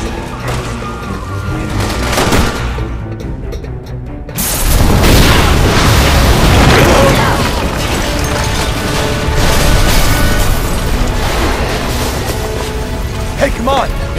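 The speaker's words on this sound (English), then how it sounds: "Shoot the gas! We can blow these things to kingdom come!" Gunfire and gas-canister explosions in the video game Resident Evil 6 on PS3: a dense, loud barrage of booming blasts and shots that briefly drops away before a heavier, sustained roar of explosions and crashing debris.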